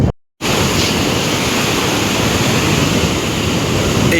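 Loud, steady roar of the flooded Godavari River rushing after rain in Nashik district, India, broadband and continuous, close by after a brief moment of silence at the start.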